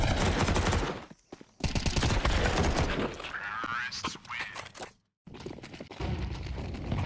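Rapid automatic gunfire and pistol shots in a Counter-Strike 2 pro match between NiP and AMKAL at BLAST Premier Fall Showdown 2024, with loud bursts crackling in quick succession under excited commentator talk.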